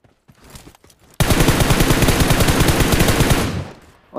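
Rapid bursts of M4 rifle fire in a battle royale video game ring out loud and close in a sustained automatic stream lasting about two seconds, after a quieter stretch of scattered clicks.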